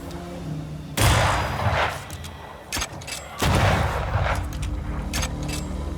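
Gunfire in the video game Banishers, with two loud bursts of shots and booms, each trailing off into rumbling echo, over a continuous game background.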